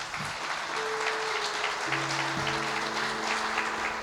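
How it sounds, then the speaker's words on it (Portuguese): A church congregation claps steadily and loudly together while sustained organ or keyboard tones ring underneath. "Quem acredita, aplauda bem forte ao Senhor."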